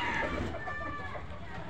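A Gavrani native country hen clucks briefly at close range, a short run of soft, low-level calls.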